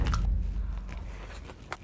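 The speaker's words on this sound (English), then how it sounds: "Outside is a little crispy and crunchy, and the corn is so juicy." Crispy, crunchy fried corn bitten and chewed close to the mic, a loud first crunch followed by softer chewing crackles and a sharp click near the end, no talking.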